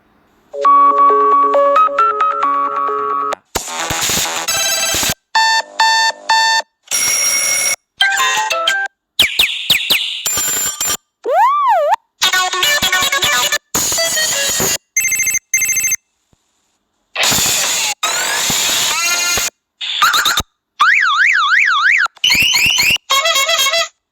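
An Android phone plays a string of different ringtones one after another at boosted volume: loud electronic melodies, beeps and warbling sweeps in short bursts separated by brief silences, with no talking.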